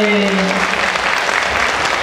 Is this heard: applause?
yes